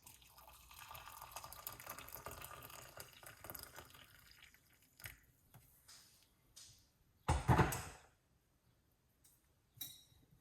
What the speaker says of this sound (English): pour hot water on it.